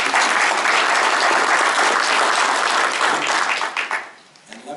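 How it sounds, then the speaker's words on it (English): An audience at a water board organizing meeting breaks into loud, dense applause that holds steady for several seconds and then drops off quickly near the end. "Why don't we give applause to our next Watermaster member,"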